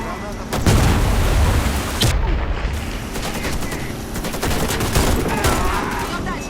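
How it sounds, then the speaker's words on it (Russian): Warface gameplay: a grenade blast and loud, rapid bursts of gunfire fill the whole clip, sharp cracks and rattling volleys up close, with a short shouted callout in the game. "Граната пошла!"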